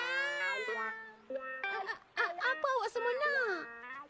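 A voice imitates a cat's meow several times, drawn-out whiny mews with rising and falling pitch, close and fairly loud.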